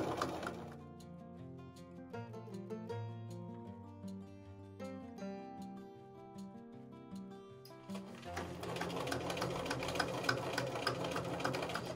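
A sewing machine stitches a fabric kitchen pot holder along a fold, a steady mechanical run under soft room sound, rising louder and denser near the end as the stitching speeds up.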